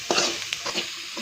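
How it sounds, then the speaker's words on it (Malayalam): Grated coconut roasting in a pan for a fish curry, with a short burst of close stirring scrapes over a light sizzle and no voices. "നന്നായിട്ട് വറുത്തെടുക്കാം."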